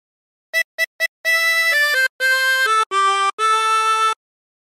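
A 20-hole tremolo harmonica plays a phrase, three quick short notes followed by longer held reedy tones in a falling line, bright and close with a shimmering waver.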